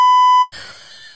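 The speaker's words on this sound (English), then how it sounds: "A bleep button." A podcast's bleep button fires one loud, pure censor tone lasting under half a second, then cuts abruptly to a breathy exhale or groan.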